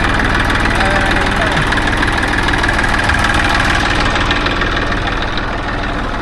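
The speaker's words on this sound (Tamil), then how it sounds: "டிராக்டர் வந்து கொண்டிருக்கு." A heavy tractor engine chugs steadily nearby, a loud rough rumble with a rapid knocking pulse that stays constant throughout.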